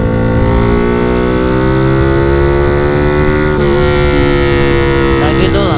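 A Yamaha New Vixion fitted with a Tridente F20 Raptor three-sound exhaust revs in its racing mode, a loud, close, sustained engine roar that rises and then settles back.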